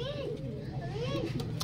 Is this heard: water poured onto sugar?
no